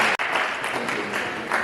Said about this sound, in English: Can we have a round of applause for Dilly for his speech